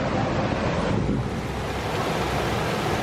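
A river rushing near a waterfall in the Lake District, a dense, steady roar of flowing water mixed with wind buffeting, loud and constant throughout.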